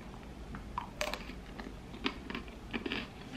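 Crisp crunching bites into a chocolate-covered salted pretzel, several sharp cracks spread over a few seconds, close to the mouth with no talk over them.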